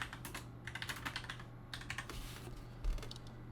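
Fingers tap out code on a computer keyboard in quick, uneven bursts of clicks with short pauses, close and fairly quiet over a steady low hum.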